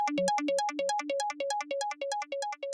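A sample-pack loop plays in Ableton Live: a bright, tonal melodic pattern that repeats in a steady, quick rhythm of short harmonic notes, heard alone at moderate level.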